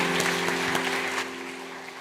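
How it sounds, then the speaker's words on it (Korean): A church congregation applauds during a Sunday worship service, a steady wash of clapping with a sustained organ or keyboard tone underneath, fading out near the end. "우리 축복의 박수 부탁합니다."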